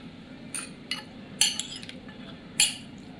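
Vegetables and sauce being tossed together in a bowl for a bread sandwich, giving a few soft clinks and scrapes of a utensil against the dish, close and quiet, with no talking.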